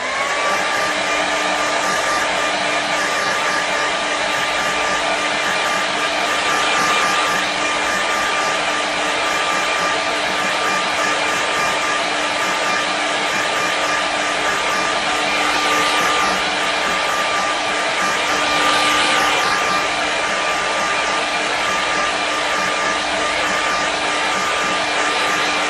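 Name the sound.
hair dryer drying a watercolour painting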